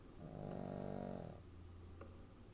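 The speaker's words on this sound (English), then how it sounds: "You do hear snoring. That is my cavalier, Holly." A Cavalier King Charles spaniel snoring nearby, one long, quiet, rattling breath that swells and fades with no talking over it.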